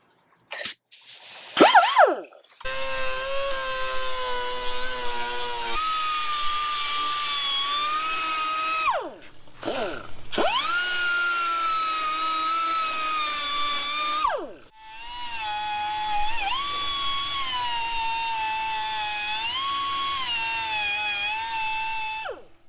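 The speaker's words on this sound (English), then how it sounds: "I'm gonna go ahead and take a flap wheel and just run it along the edge just to clean it up and smooth it out a little bit" An abrasive flap wheel on a power tool grinds along the trimmed steel edge of a Jeep Cherokee XJ fender, a loud high whine in three long passes with pitch dips as it bites, plus short spin-ups at the start.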